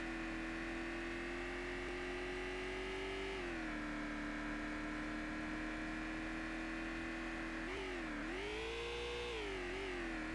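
Car engine in a driving video game, a sustained mid-pitched drone with a strong whining tone that holds level, then dips and rises again as the engine revs, with no talking.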